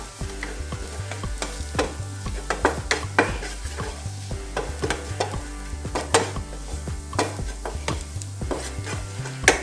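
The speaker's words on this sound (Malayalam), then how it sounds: "പച്ചമണം മാറുന്ന വരെ ഒന്ന് നന്നായി ഒന്ന് ഇളക്കിയെടുക്കാം" Coriander powder, garam masala and salt frying in a pan for an egg and bread snack, stirred briskly so that repeated scraping strokes cut through a continuous sizzle, close and with no voices.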